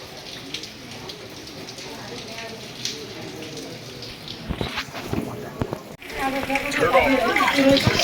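Light rain patters steadily in an outdoor temple courtyard in Kathmandu, a soft continuous hiss under nearby voices and footsteps, with a louder burst of activity toward the end.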